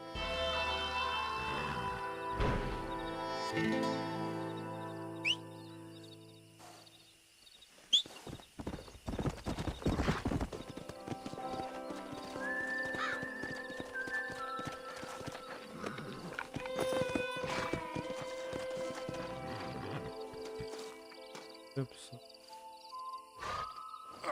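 A horse in the video game Red Dead Redemption moves in a steady clip-clop of hooves with a whinny near the start, mixed with game music and ambient sound effects.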